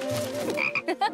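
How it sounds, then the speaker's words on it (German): A frog croaks in a cartoon scene, a rapid run of throaty calls followed by a few shorter, separate croaks, close and clear with no talk over it. "Ein Frosch, richtig?"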